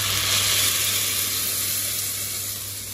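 Blended garlic paste hits a hot pan and sizzles in a steady, fairly close hiss that slowly eases off over a few seconds, with no voices.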